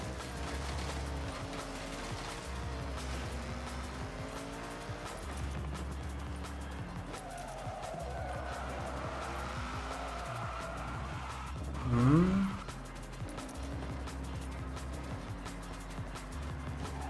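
A slightly tuned McLaren driving in Forza Horizon on Legend Island, a steady engine drone with rising and falling revs and a short sharp tire squeal near the end, with no talking.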